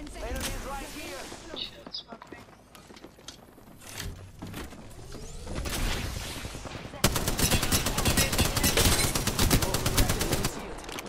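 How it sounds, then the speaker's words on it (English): Gunfire in a ranked video game match: bursts of rapid automatic fire, sparse at first, then turning continuous and loud, with players talking over the shooting. "Taking fire!"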